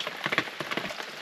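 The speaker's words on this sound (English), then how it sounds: "It'd be better if it wasn't raining today" Rain falls steadily outside at a building site in Portugal, an even patter of drops on a surface with no voices.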